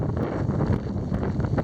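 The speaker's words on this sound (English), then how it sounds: "It's a little windy." Wind buffets a microphone outdoors on a winter hike, a steady rough blustery rumble with gusty swells across the whole short moment.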